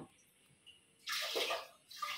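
Water bottles are rinsed under running tap water: a quiet pause, then a loud gush of splashing water, a brief drop, and a second burst of flow close by.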